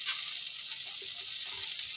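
A vegetable masala dosa cooks on a hot pan, giving a close, even hiss of sizzling that stays steady throughout, with no voices.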